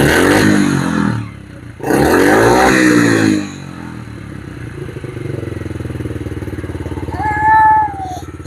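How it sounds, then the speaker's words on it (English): A Yamaha TTR50 dirt bike engine idles and revs close by, a steady putter with a rising rev near the end, after a few seconds of talk. "Engine runs really good."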